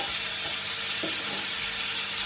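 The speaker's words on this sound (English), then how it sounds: "I just love the smell and the sound of the pancetta when it's being fried" Small amount of pancetta frying in a pan, a steady close sizzle and crackle that holds level throughout, with no talking.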